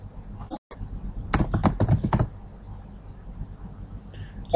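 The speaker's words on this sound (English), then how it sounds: "What I have to do is just tap at the tab key on your keyboard." Several quick taps on a computer keyboard key, a short burst of clicks at moderate loudness with no voice over them.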